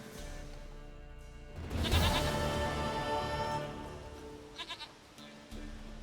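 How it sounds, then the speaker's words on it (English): A goat in The Witcher 3 gives a loud, wavering bleat in the middle, then a few short faint bleats, set against a soft background hum. "Goat of mine, dearest, sweetest goat."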